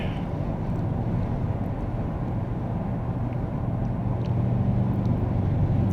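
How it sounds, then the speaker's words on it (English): A big truck passes very close on the left of a car driving near Norwich, Connecticut, its roar blending into a loud, constant rumble of road and wind noise. "Big truck to my left passing very close to me."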